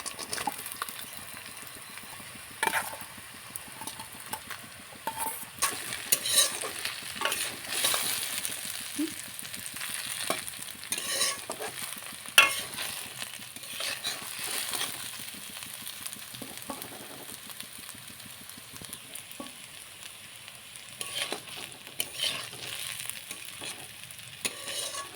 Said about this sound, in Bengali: এবার দিয়ে দিচ্ছি ভেজে রাখা আলুগুলো।